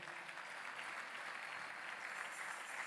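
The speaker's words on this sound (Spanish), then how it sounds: "Denle un aplauso al Señor por su vida." Faint, distant applause rises from a church congregation during a sermon, a soft steady patter of many hands lasting a few seconds with no voices.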